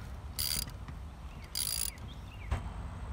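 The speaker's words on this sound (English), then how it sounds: "we're going to tighten that up. Want to make sure it's nice and snug" A 5/8 wrench tightening the clamp on a home's main ground wire, with a few short ratcheting bursts and metallic clicks, close and fairly quiet.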